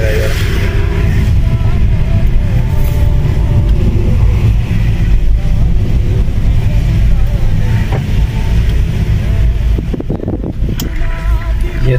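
Traffic jam in the rain on Riffa Street, Bahrain: a steady wash of idling and creeping car engines with rain hiss, continuous and fairly loud throughout, a passing rev near the end.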